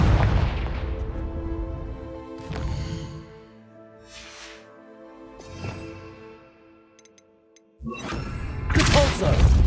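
Repeated spell blasts and booming explosions from Hogwarts Legacy, including the Confringo blasting curse. Several heavy thuds and rumbling impacts with a loud burst at the end, close and layered over game ambience.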